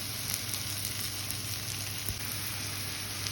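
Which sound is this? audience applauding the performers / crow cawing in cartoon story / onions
onions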